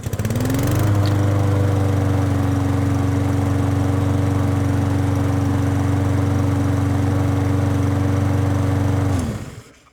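A Honda GCV160 lawn mower engine runs steadily at a constant pitch after a brief start, loud and close with an even mechanical drone, then cuts off and fades to silence at the end.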